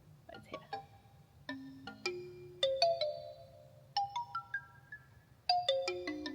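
Electronic tones from a Music of the Plants device turning an oak tree's signals into sound: a sequence of bright chime-like notes in short clusters, each ringing and decaying, fairly close and clear over a low hum.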